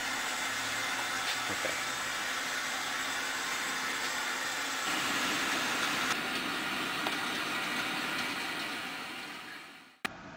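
An EZTankless EZ202 tankless gas water heater running after switch-on gives a steady, loud broadband roar with a continuous hum that holds unchanged for about ten seconds. It then drops away sharply near the end, followed by a brief click.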